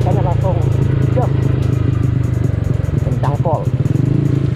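A bored-out Yamaha Mio scooter engine rumbles close by and surges briefly as the throttle is blipped, with a voice talking over it.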